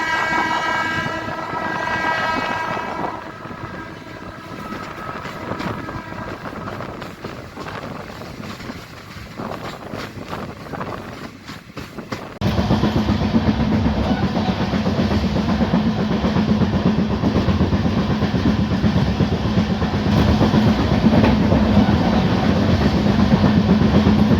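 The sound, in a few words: Parli–Sangli DEMU express train accelerating after leaving Latur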